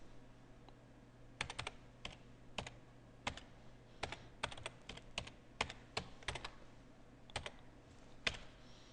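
Typing a password twice on a computer keyboard: a quiet, steady run of light key clicks with irregular spacing, close by over a low background hum.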